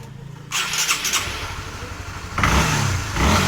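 Honda CB150 motorcycle engine revved at full throttle, a loud close roar that jumps in after a brief quieter idle and surges again partway through.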